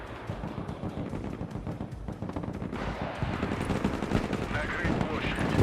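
Dense gunfire rattles on in the Broken Arrow military video game, a steady crackle of shots that swells louder toward the end while someone talks over it.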